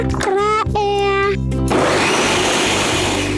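An electric blender whirs loudly and close as it blends fruit with water and a little lemon for pomegranate juice, a steady roaring grind coming in after a voice is heard briefly at the start.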